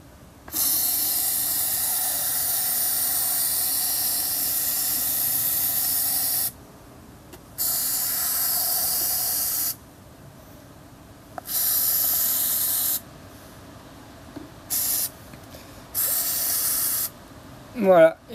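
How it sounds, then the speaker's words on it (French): Oven cleaner hisses from an aerosol can into the EGR valve of a Peugeot 207 1.6 HDI, several loud, steady bursts of a few seconds each separated by short pauses, close to the mic. "Donc je vais mettre du décape-four là-dedans."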